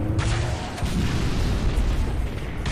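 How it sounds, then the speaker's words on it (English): A rocket launcher round blasts in a Halo multiplayer match, a loud, sustained booming explosion with rumbling low end that fills the whole moment, with no voices over it. "I shot my rocket and it like went in a crevice."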